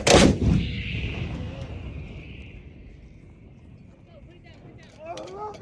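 A single artillery gun fires with a sharp, heavy boom followed by a long rumbling decay, and crew voices call out commands around it.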